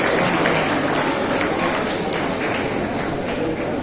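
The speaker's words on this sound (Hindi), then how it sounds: "तो जोरदार ताली हो जाए डॉक्टर कृष्ण कुमार जी के" Audience applause for Dr. Krishna Kumar at a writers' event with children, a dense, loud, sustained wash of clapping from a large crowd that fills the whole stretch.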